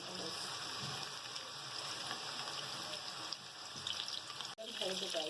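Chapli kebab patty frying in hot oil, a steady, rain-like sizzle and crackle that holds close and fairly faint, with a soft knock near the end.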